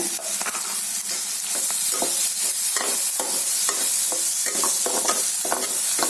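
Onions and green chillies sauté in oil in a pan for prawn biryani, a steady close sizzle broken by repeated scraping stirs of a spoon, with no one talking.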